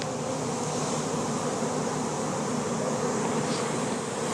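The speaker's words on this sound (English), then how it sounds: "You can tell there's still bees coming out of that gap right there." A honey bee swarm around a brick column drones in a loud, continuous buzz of many wings, close and steady with no break and no talking over it.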